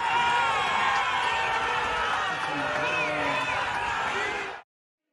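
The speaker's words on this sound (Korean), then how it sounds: "노르웨이 오슬로의 한 호텔에 뒤늦게 모습을 드러내자 지지자들이 환호합니다." Supporters of Venezuelan Nobel Peace Prize laureate María Corina Machado cheer and shout in a hotel in Oslo, Norway, a dense, loud crowd roar with whoops that runs steadily and then cuts off abruptly.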